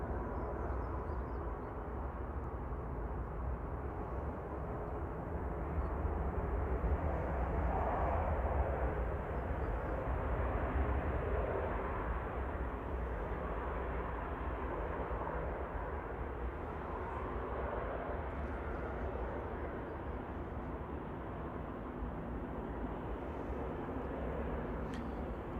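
Jet2 Boeing 737-800 arriving on runway 23 right at Manchester Airport at dusk, a broad steady roar of engine noise that swells slightly midway and holds for the whole stretch, distant and continuous with no voices.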